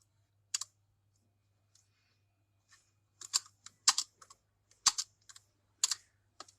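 A command is typed on a computer keyboard in a quiet room: sparse, crisp key clicks, first isolated taps, then a quicker cluster of strokes, with a faint low hum underneath.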